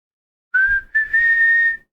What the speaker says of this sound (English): listening to a guy whistle into a microphone